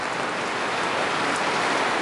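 Rain falls steadily outdoors on a city street, a loud close hiss of drops on an umbrella and pavement that holds even throughout with no voices.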